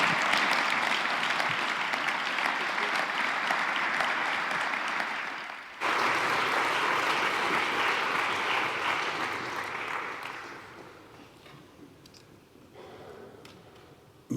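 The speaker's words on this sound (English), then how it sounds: "I ask you for a round of applause" A large audience at a European Council speech event applauds the panelists in a dense, sustained round of clapping that swells steadily, dips briefly, then thins and fades out toward the end.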